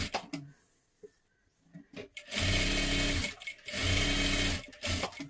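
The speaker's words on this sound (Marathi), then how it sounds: "आता ह्या बाजूला पूर्ण शिलाई करून घ्या." A sewing machine stitches along the side seam of a small girl's blouse in two loud, steady whirring bursts, separated by quieter clicks and fabric handling.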